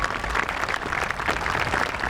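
Steady applause from an audience at a 2022 high school graduation ceremony, dense and continuous clapping filling the hall without a break, fairly close and even in loudness.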